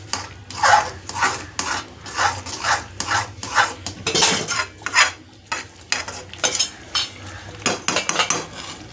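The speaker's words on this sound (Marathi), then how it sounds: "ही पण जरा ढवळून घेऊयात म्हणजे याची चव जी आहे ती ह्यात उतरेल" A spoon stirring vermicelli upma in a metal pan, scraping and clinking in an uneven rhythm of repeated strokes, close and fairly loud with no voices.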